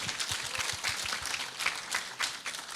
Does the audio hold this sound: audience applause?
yes